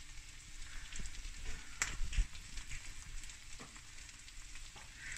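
Spices for butter chicken sizzle and crackle in a hot pan with a steady fizzing hiss, faint and close, broken by a few sharp pops and a light stirring scrape.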